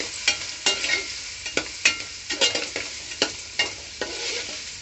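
Chopped onions sizzle in a pan after mustard seeds, scraped and stirred by a spatula in a steady run of distinct strokes, close and fairly loud with a constant frying hiss underneath and no talk.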